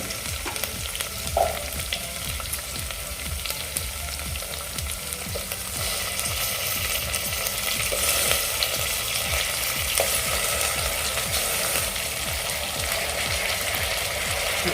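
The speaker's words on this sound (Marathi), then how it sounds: "आपण हे फक्त दोन चार मिनटं आपण परतून घेऊया तेलामध्ये व्यवस्थित फोडणीमध्ये" Eggplant and potato sizzle steadily in hot oil, a continuous crackling fry with occasional stirring scrapes, no talking.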